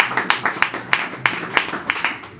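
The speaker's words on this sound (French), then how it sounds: "Applaudissez encore une fois pour les demandes." Rhythmic clapping at a civil wedding ceremony, about a dozen evenly spaced hand claps in a steady beat, fairly close, with a faint voice underneath.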